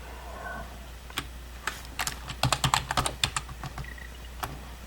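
Fingers tap out a game search on a computer keyboard in a MAME emulator running on a Raspberry Pi 4: scattered keystrokes at first, then a quick cluster of close, crisp clicks before tapering off over faint background hum.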